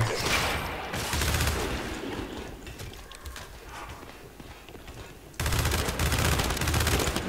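Loud bursts of automatic gunfire from the Gears of War 5 video game, co-op campaign, crackling in heavy volleys at the start, easing into a quieter stretch of scattered shots, then erupting again into sustained fire at the end.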